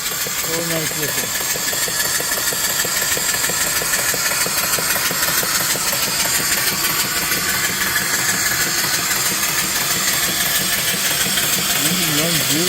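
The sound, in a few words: antique steam engine running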